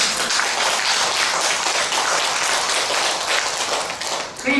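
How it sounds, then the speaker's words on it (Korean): A forum audience in South Chungnam applauding at a women's discussion event, thick continuous clapping that fills the room for several seconds before briefly easing near the end. "고맙다는 박수 쳐주세요"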